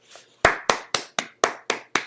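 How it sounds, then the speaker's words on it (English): Sharp hand claps in a slow, even rhythm, about seven loud close slaps spaced regularly, like one or a few people clapping on a podcast. "have a round of applause for Al Sharpton"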